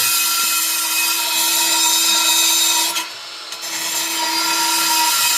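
Sanding on a Ford F100 truck body to smooth out bumps gives a steady, close rasping rub that runs continuously, with one brief pause partway through, and no talking.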